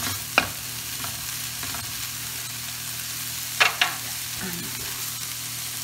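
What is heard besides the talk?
chopped salami frying and being stirred in pan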